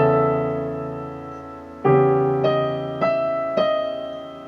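Solo piano plays a measure of the Adagio sostenuto from Rachmaninov's Piano Concerto No. 2, with a sustained low chord and right-hand notes entering one by one above it, each with a clear attack, close and alone.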